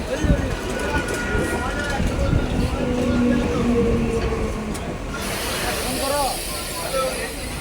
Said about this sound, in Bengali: দক্ষিণেশ্বর যাওয়ার ট্রেন আমাদের এসে গেছে।